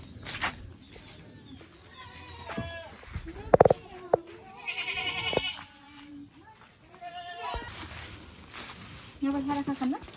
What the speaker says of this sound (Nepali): हामी चाहिँ गाईबस्तुलाई घाँस हाल्न आएको छौँ यतिखेर।